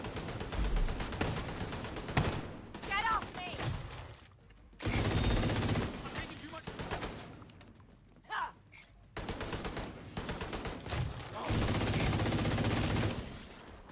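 An automated turret in a shooter game fires long, dense bursts of rapid shots, loud and continuous, broken by a few short pauses, with faint voices now and then.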